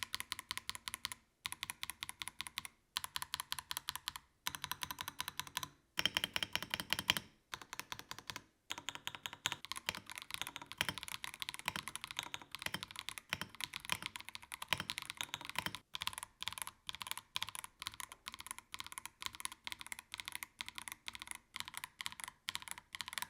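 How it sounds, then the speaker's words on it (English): Steady typing on an Akko 5075B Plus mechanical keyboard with purple stabilizers, crisp clacky keystrokes in quick bursts separated by short pauses, close and clear with no talking. "Take a listen to the sound test."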